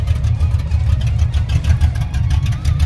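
A loud, deep car exhaust rumble through open 2.5-inch rear electric exhaust cutouts, with a steady low throb and slight pulsing, close by, running continuously without talk.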